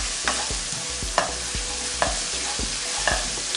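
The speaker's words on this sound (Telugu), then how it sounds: "కారపొడి వేసుకుని కలుపుకుందాం." Chili powder being stirred into a chicken and spinach curry in a pan, a steady sizzle under rhythmic scraping strokes of a spoon about every half second, close and clear with no talking.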